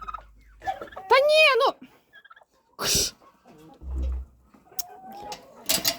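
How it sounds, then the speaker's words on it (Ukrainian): A turkey gobbles up close in a few loud, rapid warbling bursts, separated by pauses and quieter farmyard noises. "Індик, іди."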